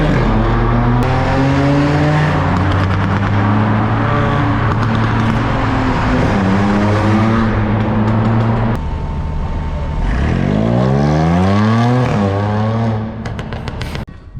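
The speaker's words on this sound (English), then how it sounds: "first thing that I really enjoy about this car is the exhaust note" A Jaguar F-Type S fires up and idles with a loud, throaty exhaust note, steady harmonic rumble, then a sharp rev that climbs and settles back, close to the car with no talking.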